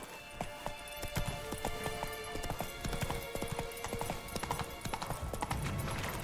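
Roach the horse gallops in The Witcher 3, hooves clip-clopping in a steady fast rhythm close by, with scattered game effects and a brief whinny-like cry over busy ambience.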